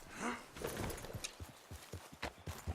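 Horse hooves trotting in Red Dead Redemption 2, a steady run of clip-clop beats close up, joined by a brief whinny-like sound near the start.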